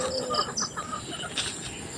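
Chickens in a backyard coop cluck softly and intermittently at close range, with a faint steady background hum and no talk.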